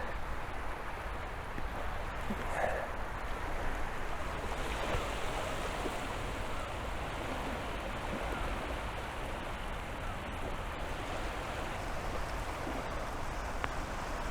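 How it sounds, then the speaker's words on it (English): Gentle waves lap steadily at an English beach, a soft continuous wash of water heard at a low level with no voices. "The natural sound of just the gentle waves lapping."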